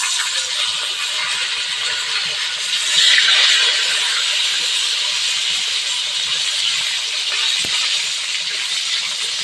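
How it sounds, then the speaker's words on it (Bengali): Whole garlic cloves frying with mutton in hot oil, a steady soft sizzling hiss with faint crackles and one brief clink of a utensil, no talking. "মাংসর সাথে আমরা গোটা রসুন দিচ্ছি এভাবে একটু ভেজে নেব"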